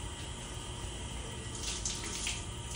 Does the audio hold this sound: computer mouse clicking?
no